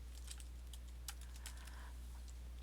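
Quiet keyboard typing while naming a combo box in a PyQt5 dialog form: a short run of light, irregular key clicks over a steady low hum, with no voices.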